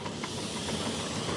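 Live steam hisses from a Double Fairlie garden-railway locomotive, a steady, broad, fairly loud hiss that holds without a break over a short stretch, with no talk.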